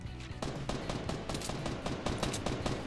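Rapid bursts of automatic gunfire in a Fortnite Battle Royale match, dense and continuous with repeated sharp shots over a busy game background, no talking.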